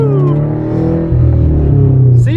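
Subaru BRZ widebody car driving and accelerating, a steady close engine drone with a rising, slightly louder pull in the second half and a brief higher noise near the end.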